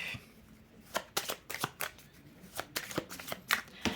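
Tarot deck shuffled by hand close up, a rapid run of crisp card riffles and slaps in uneven bursts, with no talking.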